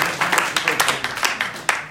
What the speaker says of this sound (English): Round of applause for Emerson.